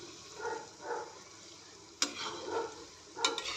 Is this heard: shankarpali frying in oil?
yes